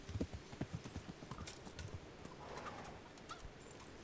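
Horse hooves clip-clop in the game Kingdom Come Deliverance, a quick run of close, distinct steps that thins out after the first seconds, with faint bird calls and ambient noise behind.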